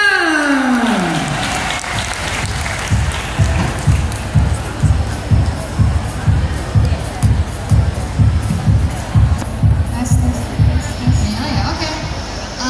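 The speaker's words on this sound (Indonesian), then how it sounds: "Bapak Ibu semuanya beri tepuk tangan Yang meriah untuk Hanami dan Katerina" Audience applause for two student presenters at an Indonesian school event, a sustained wash of clapping with a rhythmic low thumping underneath, steady and fairly loud after a brief opening swell.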